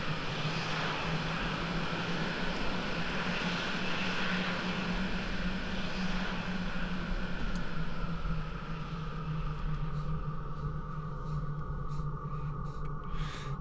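A jet aircraft engine in Falcon 4.0 (Allied Force) hums steadily while taxiing before takeoff, a continuous loud whine and low rumble that holds throughout, with small clicks near the end.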